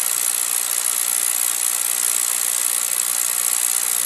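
A Beckett oil burner fires after a delayed oil valve opens, producing a steady, loud, hissing roar that stays unchanged throughout.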